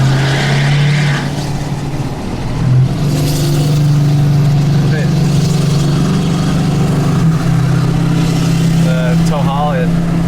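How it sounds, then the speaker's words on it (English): A Ford 6.7 Powerstroke pickup tows a trailer in tow-haul mode with the passenger window down, its engine droning loudly and steadily with some revving, while a person talks over it. "Just give you little towing sounds."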